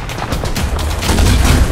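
Tank cannon fire and heavy gunfire in the War Thunder video game, a loud dense rumbling battle mix of booms and blasts that runs through the whole moment with no talk over it.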